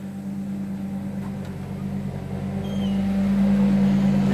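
A truck-mount carpet cleaning machine runs outside an office building, giving a steady, loud mechanical drone with a strong low hum that grows slightly louder toward the end.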